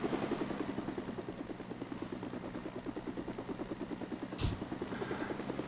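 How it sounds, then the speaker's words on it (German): Helicopter in the video game LEGO Worlds, a steady rhythmic rotor chop at moderate volume, continuous throughout with a brief louder thump near the end and no talk. "Der hat uns unseren Hubschrauber geklaut."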